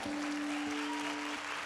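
A church congregation at a Lagoinha Canoas worship service claps steadily at moderate level, with a sustained tone ringing underneath for part of the burst.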